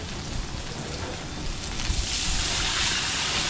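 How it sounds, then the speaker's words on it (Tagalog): Water poured into a cooking pot over sautéed garlic, onion, ginger and tomato for a salmon head dish, a continuous rushing splash that grows slightly louder, close. "Lagay tayo ng tubig."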